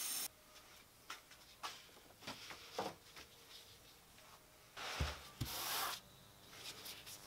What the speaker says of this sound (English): I ended up sanding that off